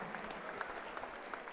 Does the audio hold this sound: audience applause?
yes